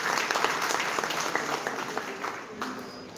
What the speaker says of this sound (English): Once again, a big round of applause for our HR teams.